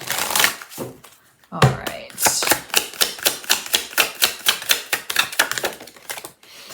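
A deck of gold-embellished tarot cards is riffle-shuffled close up, giving fast, even rows of crisp flicking snaps after a short opening shuffle, with a brief spoken remark.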